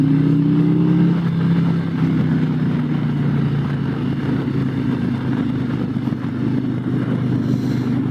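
A Harley-Davidson motorcycle, a Road Glide or LiveWire, rides and accelerates, its steady engine drone loud and close with a rising pitch early on, then holding even through the ride.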